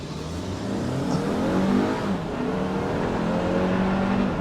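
A 2019 BMW X4 xDrive30i accelerates hard in a race, its engine droning steadily and rising in pitch, loud and continuous with no talking.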